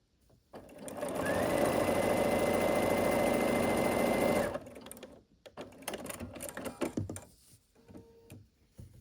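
A sewing machine runs fast and steady for about four seconds, stitching across two layered quilt triangles. It stops abruptly, leaving quiet handling rustles and small clicks close by.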